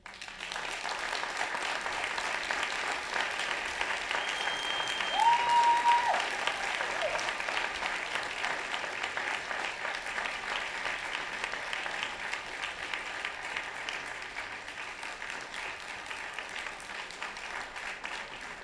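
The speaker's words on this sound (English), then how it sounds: "Let's give Matt a round of applause." Audience applause after a keynote speech at a recovery summit, a steady dense wash of clapping across the whole stretch, swelling slightly midway and then holding even.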